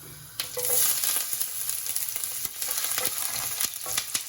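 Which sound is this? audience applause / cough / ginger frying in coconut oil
ginger frying in coconut oil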